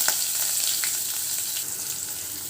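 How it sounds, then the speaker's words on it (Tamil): Mustard seeds, cumin and onion sizzling in hot oil in a kadai, a steady crackling fry with scattered pops, close and continuous throughout with no talking. "ஒரு கடாயில் எண்ணெய் ஊற்றி வச்சுருக்கேன் கொஞ்சம் கடுகு சீரகம் போட்டுக்கிறேன் பெரிய வெங்காயம் கொஞ்சம் போட்டுக்கிறேன்"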